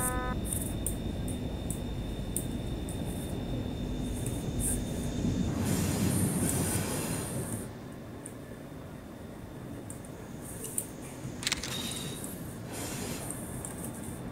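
A BR 181.2 multi-system electric locomotive in a train simulator game pulls away through the Moselle valley, with rumbling wheels on rails and a faint squeal that swells, then settles into a quieter running rumble.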